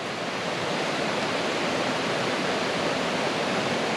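Deep water in a stream in the Cranberry Wilderness rushes in a steady, loud, unbroken flow close by, a broad hiss with no other sounds.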